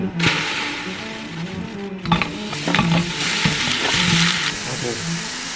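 Spicy pork being stir-fried in a preheated stainless steel pan, a continuous sizzle with scraping and clattering stirring strokes, close and fairly loud, with no voices.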